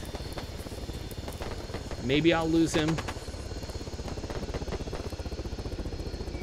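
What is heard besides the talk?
helicopter flying overhead in video game Arma 3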